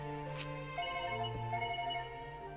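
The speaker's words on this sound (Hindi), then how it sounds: "दादा का फोन है।" Telephone ringing in a dubbed Hindi feature film scene, a steady electronic tonal ring at moderate volume over a soft musical background, with no speech during the ring.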